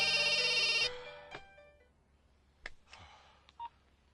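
Telephone tones over a Hindi-dubbed film call: a steady electronic ringtone for under a second, then a few short separate beeps and clicks as the line connects, fairly faint and with no talking.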